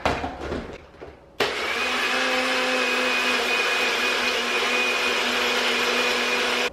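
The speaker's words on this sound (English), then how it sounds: "I'm gonna go ahead and blend it up" A blender whirs loud and steady after a short clatter of setup, mixing a chocolate peanut butter shake made with powdered peanut butter and cream cheese; the motor drone holds evenly to the end with no talking.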